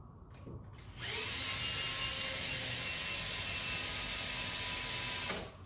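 A power drill whirs at a steady high pitch for about four seconds while drilling a hole to fit an awning rail, starting abruptly and stopping at the end, close and loud.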